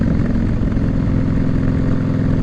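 A Harley-Davidson Softail Slim motorcycle engine rumbles steadily up close, a loud, continuous low throb with a regular pulsing beat throughout.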